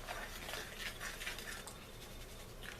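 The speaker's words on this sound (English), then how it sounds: "See, I'm mixing it together dry." A spoon stirs dry self-rising cornmeal around a bowl, making a steady, close, gritty scraping and swishing that runs without a break and with no voices.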